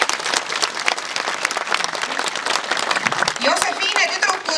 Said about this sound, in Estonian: üks tõsine aplaus nende tantsude seadete tegijatele kulub nüüd ära